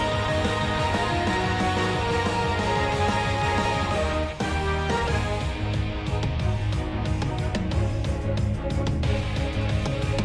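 A track from a video game soundtrack plays as a loud, dense, driving battle theme with steady percussion and full layered instruments, continuous throughout.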